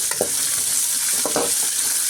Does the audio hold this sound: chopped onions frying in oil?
yes